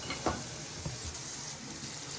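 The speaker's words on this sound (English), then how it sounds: "I'm gonna run some cold water into a clean sink" Steady running tap water splashing into a sink, a continuous close hiss with no talking.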